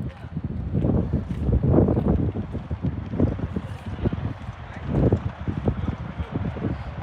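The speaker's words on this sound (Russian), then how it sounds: "Извиняюсь за ветер, сегодня ветрено." Gusty wind buffets the microphone with low, uneven rumbling bursts throughout, with no other clear sounds.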